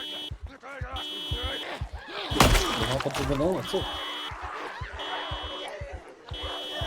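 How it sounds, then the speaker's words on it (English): A car alarm blares in Project Zomboid, a zombie survival game, sounding as a steady repeating electronic tone at moderate level while people talk over it and other game thumps occur. "Zombies set up a fucking car alarm."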